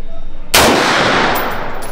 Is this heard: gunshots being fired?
yes